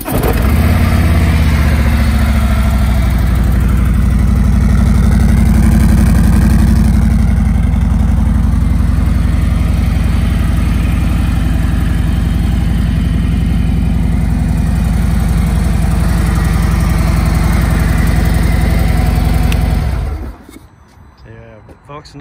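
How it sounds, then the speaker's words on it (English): A 2019 Harley-Davidson Road Glide in Vivid Black with its engine running at a steady idle, a loud, continuous low rumble close by for about twenty seconds before it cuts off abruptly. "Let's go ahead and start this bike so you can hear it go."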